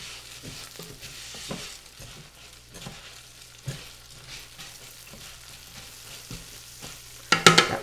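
Soft scraping and stirring in a Ninja one-pot cooker as salt and pepper are mixed into rice and vermicelli, faint quiet stirring strokes with light sizzling and a sharper clatter at the end.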